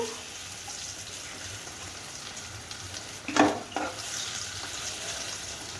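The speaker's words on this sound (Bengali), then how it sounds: "পনিরটা ভাজা হয়ে গেছে তুলে নিচ্ছি আর বাকিটা একইভাবে ভেজে নেব" Paneer frying in hot oil gives a continuous close sizzle, with one brief louder clatter and splash partway through as pieces are lifted from the pan.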